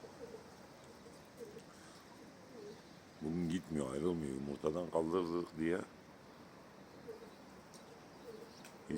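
A two-year-old female racing pigeon of smoky grey coloring coos in a close burst of rolling, repeated calls lasting a few seconds, with quieter outdoor sounds before and after.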